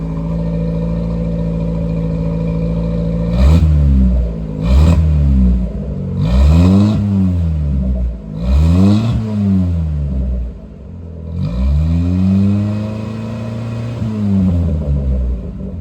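A Toyota Corolla's engine with an aftermarket exhaust revs hard several times in short bursts, each rise and fall clearly audible, then settles into a longer rumbling rev near the microphone.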